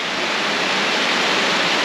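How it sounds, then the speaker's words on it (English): Fortescue Falls in Dales Gorge, where water tumbles over stepped layers of rock, gives off a steady, dense, loud broadband rush with no break and no voices. "And it makes this really nice waterfall."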